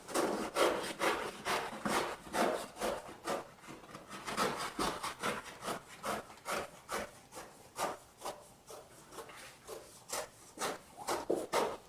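Excess vinyl lettering being cut freehand during installation, heard as a quick series of close, rhythmic scraping and rasping strokes, loud and regular, with no speech.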